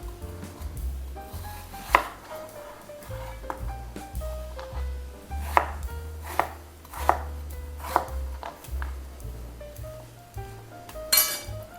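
A knife chops carrots and apples into matchsticks on a board, giving soft repeated cuts with several sharper clinks of glass or utensils mixed in, close and fairly quiet, with no voices.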